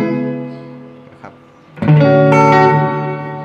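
Sustained electric guitar notes ringing with a spacious room-like reverb from a reverb pedal's room setting, a new chord struck midway and its tail lingering as it fades.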